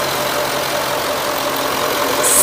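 A steady 3.6-litre Ford-designed V8 engine in a 2007 Range Rover Sport idles close by with a constant low rumble and even hum, no voices.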